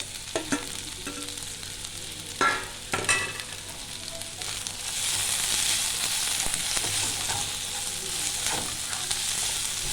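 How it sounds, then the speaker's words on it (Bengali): Chopped red and yellow bell peppers fry in a pan, a few clattering stirs and scrapes giving way to a steady, close sizzle that grows fuller in the second half. "হালকা করে ভাজবো।"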